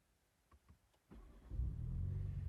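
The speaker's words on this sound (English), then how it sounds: "Now let's start up the car" A 2021 Toyota GR Supra with the 2.0-liter engine starting up: a few soft clicks, then the starter cranks and the engine catches into a loud, deep, steady idle rumble close by.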